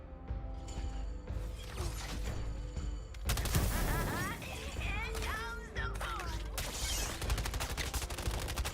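Gunfire in the Suicide Squad video game during Deathstroke gameplay, dense bursts of rapid shots and mechanical clatter running throughout, layered with game effects and chaotic sound, with a voice talking over parts of it.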